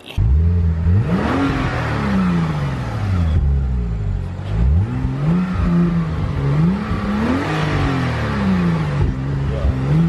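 Sports car engine revving hard at a Ferrari and Porsche meet, loud and close, with repeated rising and falling throttle blips over a steady rumbling idle.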